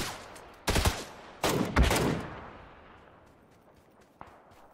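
Gunfire in the video game PUBG, two loud close bursts of shots followed by a long decaying echo, then a faint single crack near the end.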